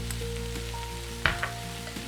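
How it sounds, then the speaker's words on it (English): Beef tips brown in a Ninja Possible Cooker Pro with a steady close sizzle over a low electrical hum, broken by a single sharp clink of a utensil against the pot. "And let the beef continue to brown for a few more minutes."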